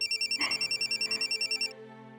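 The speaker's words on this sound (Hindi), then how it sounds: "अंजलि बेटा, आस्था का फोन है।" A telephone rings in a home with rapid, evenly pulsed electronic trills, loud and close, stopping after under two seconds.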